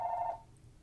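A telephone rings with a steady electronic tone that cuts off after about a third of a second, followed by a quiet room hum.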